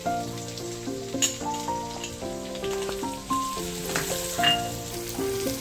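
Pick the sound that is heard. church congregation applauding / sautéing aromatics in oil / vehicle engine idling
sautéing aromatics in oil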